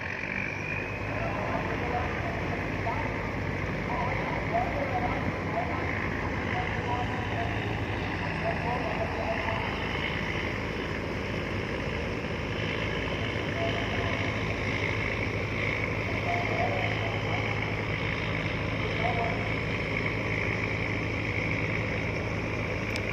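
A river dredging boat on the Pattani River in Thailand runs its engine in a steady, continuous low drone with a broad hiss of water, heard from a distance on a calm morning while someone talks over it.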